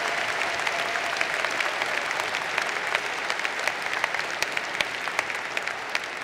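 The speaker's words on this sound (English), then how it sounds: "give Mr. Brendan Bechtel another round of applause" A commencement audience at a university engineering graduation ceremony applauds Brendan Bechtel, with a dense, sustained round of clapping from a large crowd that carries steadily from start to finish.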